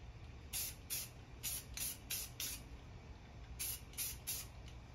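Spray paint hisses onto a space-themed canvas in about nine short bursts, grouped in two clusters, with a low background rumble underneath.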